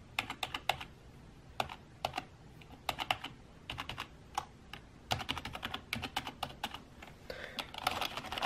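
Keys clack in irregular bursts of quick typing on a Corsair K55 RGB gaming keyboard, crisp and close, with short pauses between flurries.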